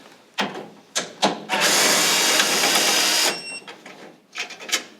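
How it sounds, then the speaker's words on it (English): A power tool with a 7mm socket backs silver screws out of a Weil-McLain SlimFit boiler, giving short whirring bursts and then one sustained high whine of about two seconds before brief spurts again. "There's 5, and I'm going to be using a 7mm socket"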